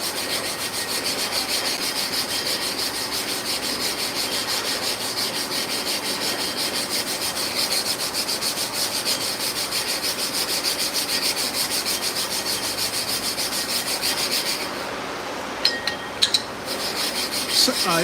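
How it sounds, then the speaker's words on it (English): Abrasive being spread and rubbed onto a clipper blade sharpening plate, a continuous close gritty rubbing that runs steadily, then stops, followed by a few light clicks at the end. "What I'm doing now is recharging the sharpening plate. I'm just trying to get a good coat of the abrasive on here."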